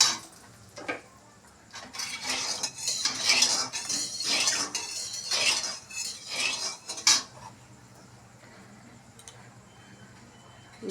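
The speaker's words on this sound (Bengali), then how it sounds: "তেলের উপর চাউমিনগুলোকে এবার ছেড়ে দেব দিয়ে চাউমিনগুলোকে ভালো করে একটু ভেজে নেবো" Vegetarian chow mein is stir-fried in oil in a pan, heard as a spatula repeatedly scraping and clattering against the metal in quick bursts for several seconds before things go quiet.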